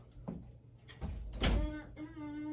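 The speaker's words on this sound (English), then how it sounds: "Let me shut my door." A bedroom door swings and shuts with a couple of knocks and a solid closing thud, heard up close, with a voice and a faint tone in the background afterward.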